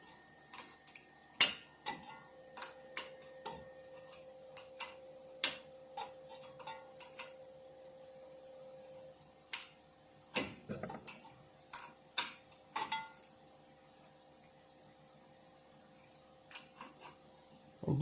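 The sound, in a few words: screwing in tie rod with adjustable wrench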